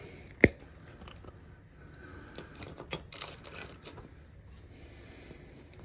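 A Maytag dryer power wire is cut through with cutters, giving one sharp, close snip near the start, followed by faint handling and rustling noises.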